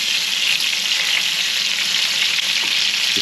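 Chicken fries in a pan for Chicken Valdostana, with a steady, close sizzle and crackle and no talking.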